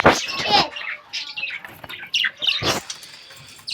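Budgerigars at a mini zoo let out a few sharp chirps and squawks in short bursts, close by, with brief quiet gaps between calls.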